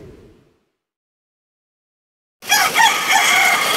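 A five-month-old Hennie gamefowl stag crows once, loud and close, breaking in abruptly after a stretch of silence.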